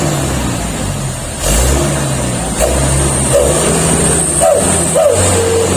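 An Isuzu Elf Travel truck fitted with a wolf exhaust revs nearby, a steady loud engine drone rising in a few short throttle blips with a whining, howling edge over the rumble.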